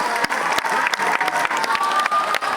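Audience applause at a school Christmas event at Aalfa Matric Higher Secondary School, a loud dense burst of clapping from a crowd that continues steadily throughout.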